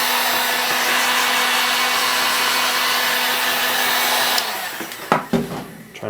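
A heat gun warms the edges of a GoPro chin mount on an AGV K3 SV motorcycle helmet, a loud steady blowing roar that cuts off after about four seconds, followed by a few close handling knocks.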